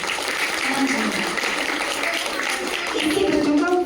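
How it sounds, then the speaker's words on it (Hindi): Children clapping at a Republic Day celebration, a continuous broad patter of many small hands with a voice speaking over it. "सभी बच्चे जोर से ताली बजाया करेंगे"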